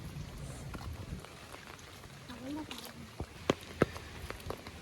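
Heavy rain falling over a village, a steady, fairly faint hiss with a few sharper drip taps and a brief faint voice in the background.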